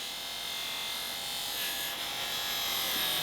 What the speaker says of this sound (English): Right now I'm only polishing that part that was sandblasted before